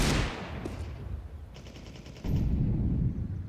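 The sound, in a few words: Desert Eagle gunfire in the video game Counter-Strike 2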